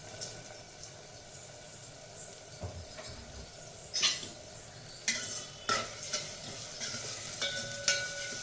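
Onions lightly frying in a pan for rice ravva upma, a soft steady sizzle with intermittent scraping and clinking as a spoon stirs them, sharper metallic taps near the end.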